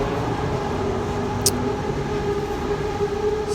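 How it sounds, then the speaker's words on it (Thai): A BTS Skytrain runs along the elevated line above Siam in Bangkok, a steady loud rumble and hum that fills the whole stretch, with a brief high squeal near the middle. "สันติสุขข้างบนก็จะมีรถไฟฟ้า BTS กำลังเขาโผล่มาเนาะ"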